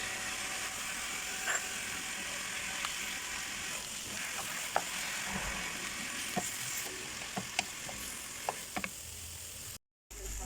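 Chicken breast sizzles steadily in a frying pan while being cooked as quiche filling, a constant crackling hiss with a few sharp ticks and pops scattered through, close and alone without talk.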